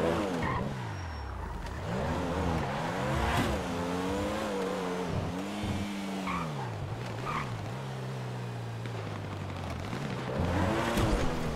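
A car driven in a video game, engine revving and swooping in pitch with repeated tire squeals and skids, loud and continuous throughout.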